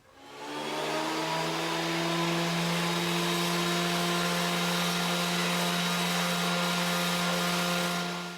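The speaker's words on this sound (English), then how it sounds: "the planer was slipping around a little bit on the surface on the table" A wood planer runs on a table, feeding pallet wood, with a constant loud motor hum and whine that ramps up and holds steady, alone without speech.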